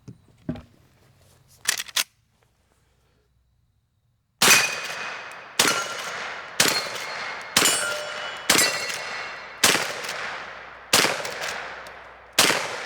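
Marlin 1894 Trapper lever-action rifle chambered in 10mm Auto fires eight loud, sharp shots in a steady rhythm, each crack trailing off into a short echo, after some faint handling noise and a brief pause.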